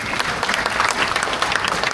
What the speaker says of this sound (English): let us give them a very warm applause